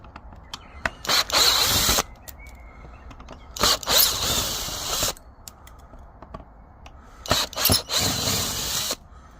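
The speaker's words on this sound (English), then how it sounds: "Now you all like watching screws being undone." A power drill undoes screws from a bench under restoration, whining in three close, loud bursts of a second or two each, with quieter clicks and handling noises between them.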